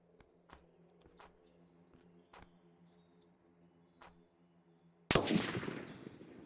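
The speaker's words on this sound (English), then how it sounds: "Try to shoot one in the leg" A single loud gunshot from a firearm aimed at zombies in the survival game Survive the Nights, cracking sharply near the end after a quiet stretch of faint clicks and ambient hum, then trailing off quickly.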